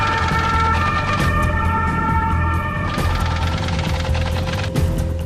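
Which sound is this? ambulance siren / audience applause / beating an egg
ambulance siren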